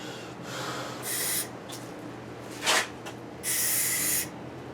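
Spray can applying primer to a Razor go-kart during a restoration, several bursts of hissing spray of varying length, close and loud over steady background noise, with no talking.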